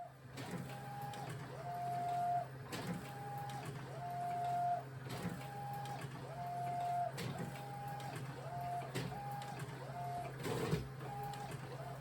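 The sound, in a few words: Epson T3170x printer printing a film strip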